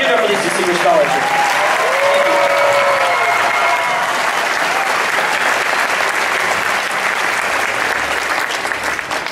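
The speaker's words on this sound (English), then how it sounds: "we just want to give them another round of applause" At a school instrumental music festival, an audience claps in a sustained round of applause for scholarship winners, with cheering voices over the dense clapping before it tapers slightly.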